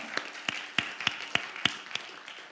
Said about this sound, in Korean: 박수로 하나님 앞에 영광 돌리겠습니다